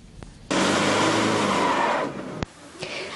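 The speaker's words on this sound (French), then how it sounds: "Des voitures qui dérapent, des routes impraticables ou complètement coupées" Cars skid on snowy, impassable roads, a loud sustained rush of tyre and engine noise lasting about a second and a half that then fades, followed by a sharp click and quieter traffic rumble.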